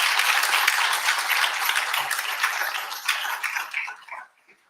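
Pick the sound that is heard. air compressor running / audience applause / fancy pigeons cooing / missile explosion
audience applause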